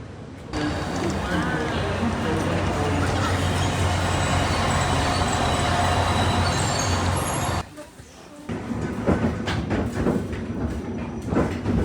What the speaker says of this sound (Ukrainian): Я хочу, щоб був кадр, коли потяг отак приїжджає.